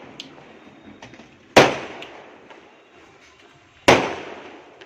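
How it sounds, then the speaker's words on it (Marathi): Two loud firecracker bangs at a festive celebration go off a couple of seconds apart, each ringing out and fading, with smaller distant pops scattered between. "आमच्या इथे फटाक्यांचा तुम्हाला आवाज येत असेल"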